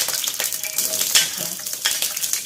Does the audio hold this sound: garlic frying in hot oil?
yes